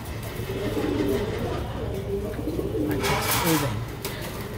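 Soft pigeon coos from a black pigeon with a white tail repeat under a steady background hum, a low rolling call recurring every second or so, fairly close and continuous.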